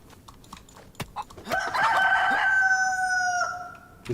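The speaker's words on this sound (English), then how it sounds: "So I can hear the chicken." A rooster in the video game DayZ crows once, a clear drawn-out cock-a-doodle-doo heard alone at moderate distance, after a few faint taps and clicks.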